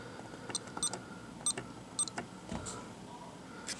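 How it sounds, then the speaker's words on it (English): PIN entered on a SimpliSafe home security keypad, a series of short, sharp electronic beeps for each key press, close and fairly loud over a quiet room, with a couple of softer tones toward the end. "I'm going to put you down while I type my PIN in."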